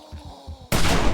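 A single loud, sharp hunting rifle shot in the survival zombie game 7 Days to Die, Alpha 16.4, bursting in suddenly after a stretch of quiet, low rumbling ambience.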